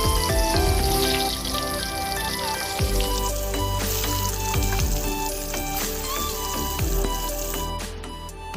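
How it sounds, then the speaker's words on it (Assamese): Potatoes with salt and turmeric frying in hot oil, a steady loud sizzle throughout with occasional stirring clinks and scrapes. "এতিয়া মই আলুখিনি ফ্ৰাই কৰি লওঁ"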